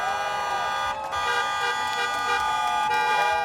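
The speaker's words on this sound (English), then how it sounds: "cars on the street honking in support" Car horns honk over a dense street crowd at a No Kings protest on Las Vegas Boulevard, several overlapping tones sounding steadily for the whole stretch, with crowd noise and talk underneath.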